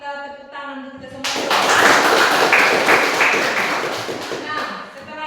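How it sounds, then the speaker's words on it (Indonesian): Students in a classroom break into loud applause, a dense burst of clapping that starts after a brief voice and holds steady for several seconds before easing off. "Kita tepuk tangan untuk kita semua."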